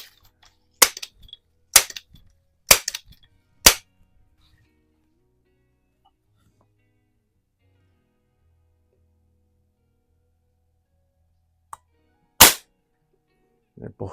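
A repaired Rochester precision air rifle fires in a garage: four sharp, loud, close cracks about a second apart, then near-silence before one more crack, each shot a brief snap with almost no echo.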